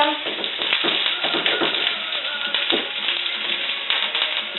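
Potatoes sizzle loudly in a hot frying pan, a steady dense crackle and hiss running throughout with small stirring clicks.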